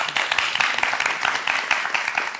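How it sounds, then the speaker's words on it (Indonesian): Audience applause at a panel discussion on Banjar tradition and modernisation, a steady patter of many hands clapping for a couple of seconds, fairly close and even throughout. "Tepuk tangan dulu."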